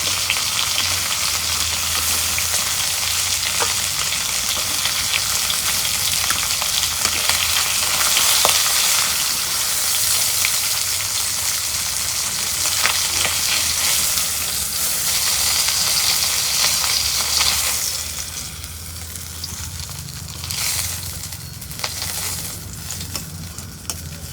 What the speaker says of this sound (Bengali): মাছ ভাজা শেষ, আপনারা তো দেখলেন।